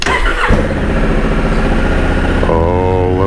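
Engine of a new motorbike running up close, a loud, steady low throb that rises in pitch toward the end as it revs.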